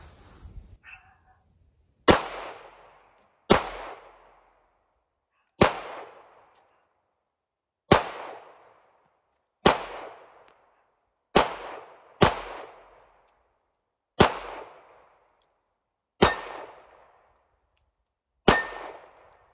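Walther Creed pistol firing at a steel target: about eleven sharp, loud shots, each with a ringing metallic clang, spaced roughly one to two seconds apart with a short pair near the middle, and no talking.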